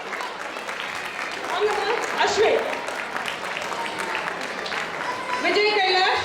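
An audience claps steadily in a continuous wash of applause, welcoming youth council members onto a stage, while an announcer reads out a name over it.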